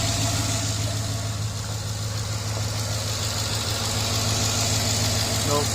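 A 2011 Ford F-150 engine running with new accessory belts turning, a steady close idle hum and whir under the hood with a faint rhythmic ticking, continuous and without pause.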